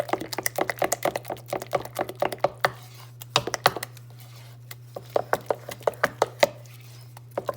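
Banana bread batter stirred by hand with a wooden spoon in a bowl, a brisk run of close, sharp knocks and scrapes in an uneven rhythm, with no talking.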